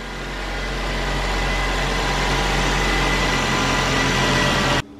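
Suzuki SX4 engine idling evenly and steadily at close range, a constant low drone that runs without a break before cutting off abruptly near the end.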